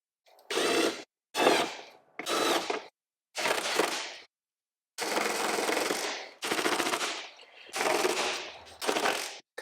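Power tool driving the speaker mount screws on a 2015-or-later Harley-Davidson Road Glide during a speaker system install, heard as nine loud, close, sharp rattling bursts about half a second to a second long, separated by short silences, with no talk.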